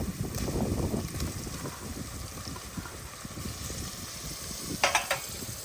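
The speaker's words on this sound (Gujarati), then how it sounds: "હવે આને આપણે 5 થી 10 મિનિટ માટે ડુંગળી જ્યાં સુધી ચડી ન જાય ત્યાં સુધી આપણે સરસ મજાનો ધીમા તાપની અંદર હલાવતા રહેવાનું છે" Grated onion and ginger frying in oil over a low flame on a village chulha while being stirred, with a steady sizzle, soft scraping strokes of the spoon and a couple of sharper clinks near the end.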